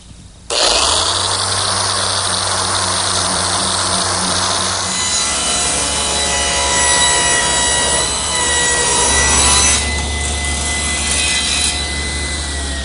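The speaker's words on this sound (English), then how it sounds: "Now I've switched to my random orbit sander. I'm starting with an 80 grit" A random orbit sander with 80 grit paper works across a wooden butcher block, a steady, loud whirring grind with a low motor hum that runs continuously for about twelve seconds, no talking.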